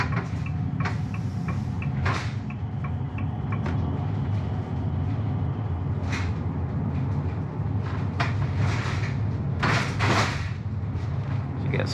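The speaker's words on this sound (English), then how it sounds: "you can hear the back sliding up door rattling and stuff a little bit more" Rear sliding door of a 2024 RAM 3500 ProMaster EV delivery van rattles intermittently with sharp knocks and clatters over bumpy roads, beneath steady road and cabin rumble.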